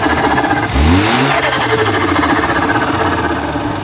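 Engine of a BMW F30 320i fitted with an MST air intake and aftermarket downpipe revs up sharply, a rising roar that holds steady at a loud, close level with no talking.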